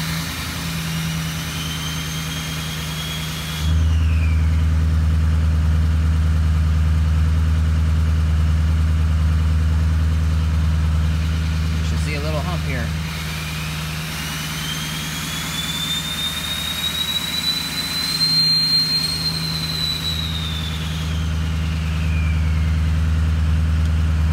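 A 6.0 Powerstroke diesel truck engine with a P0046 fault starts and settles into a steady, rumbling idle, a deep low drone holding throughout with a faint rising whine on top.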